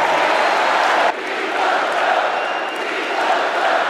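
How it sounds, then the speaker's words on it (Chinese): A large political convention crowd in an arena applauding and cheering during a standing ovation, a dense, continuous roar of clapping and shouting that stays loud throughout. "全场高举标语起立鼓掌致敬"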